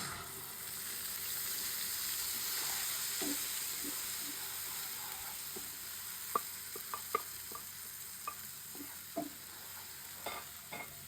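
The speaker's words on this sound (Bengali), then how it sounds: "পেঁয়াজ বাটাটা দিয়ে একটু ভালো করে ভাজিয়ে নেবেন" Onion paste frying in oil in a pan, a soft continuous sizzle with scattered sharp pops and a few clinks of stirring toward the end, quiet and close.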